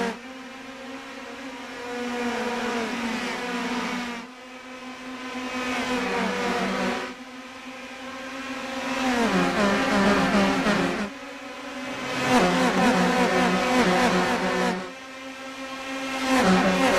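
Several race cars in the iRacing sim roar up to speed together at the green flag of a US Open Wheel race at Phoenix, with loud, layered engine whines rising in pitch across repeated gear surges, heard alone without talk.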